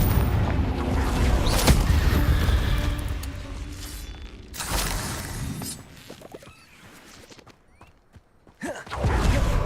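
Explosive Confringo spell blasts from Hogwarts Legacy, loud booming bursts near 1.5 and 4.5 seconds over a busy combat din against a giant spider, with a dip to quieter rumble before another blast at the end.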